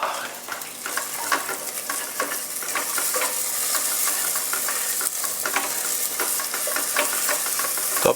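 Onions and ginger-garlic paste fry in a pan for a Daagh Mein Bheeya dish, giving a loud, steady sizzle broken by frequent stirring scrapes and taps close by.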